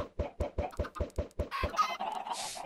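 Chickens in the Minecraft video game cluck in a quick regular series of short clucks, followed by a busier stretch of game sounds, with no talking.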